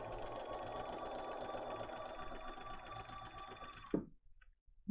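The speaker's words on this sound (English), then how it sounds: "I'm going to sew right to the dashed line that's right below line 5." A sewing machine stitches a paper piecing pattern for a basket of posies quilt block, a fast steady mechanical whir and needle chatter that stops abruptly near the end, followed by a soft thump.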